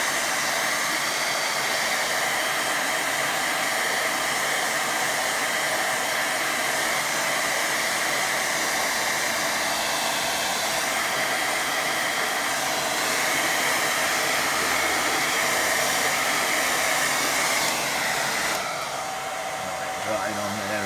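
A hair dryer blows steadily and loudly at close range, drying a watercolour painting of trees, a constant broadband whoosh that runs unbroken for about twenty seconds.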